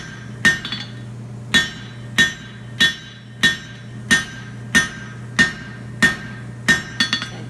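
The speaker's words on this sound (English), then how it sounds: "I'm going to forge in the swell that I got." Hammer blows on hot steel tongs being tapered, about a dozen sharp ringing strikes at a steady rhythm roughly every 0.6 seconds, close and loud, with a brief flurry of lighter taps at the end and a low hum beneath.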